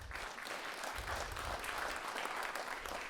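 A comedy show audience in Paris applauds steadily on cue, a dense wash of many hands clapping at a moderate, even level throughout with no talking over it.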